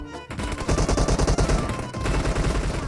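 Rapid automatic gunfire in PUBG, a dense burst of loud, close shots that keeps firing through the whole stretch with only a brief gap near the start and another near the middle.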